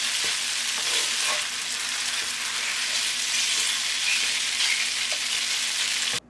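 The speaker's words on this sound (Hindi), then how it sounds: "ऑयल शामिल कर दें। उसके बाद आप इसको अच्छी तरह से फ्राई कर लें" Chow mein ingredients fry steadily in hot oil, a dense, continuous sizzle with faint stirring clatter, loud and close with no talking, cutting off abruptly at the end.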